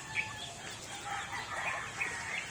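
Chickens clucking in a farmyard where ducks are also kept, soft scattered clucks and chirps at moderate distance over a faint outdoor background.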